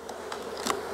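Honeybees buzzing around honey boxes lifted off a hive above the queen excluder, a steady close insect drone with a brief louder swell as a bee passes near.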